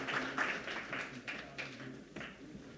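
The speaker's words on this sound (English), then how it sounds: "A huge round of applause for all our" Scattered applause from a summit audience, a series of soft claps rising and fading at a distance, fairly faint, with no voices over it.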